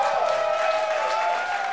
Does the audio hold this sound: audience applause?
yes